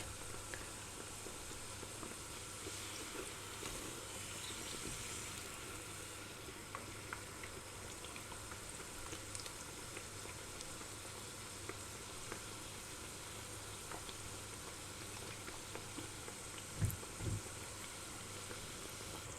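Continuous soft sizzling of börek frying in a pan, steady and crackly throughout, with a couple of brief knocks near the end.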